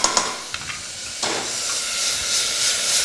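Butter sizzling and browning in a hot pan while it melts, a steady bright hiss that swells and holds throughout, with a few soft clinks of the pan near the start.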